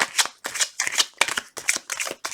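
A deck of tarot cards shuffled close up in quick riffling bursts, about seven rapid flutters in a row with brief gaps.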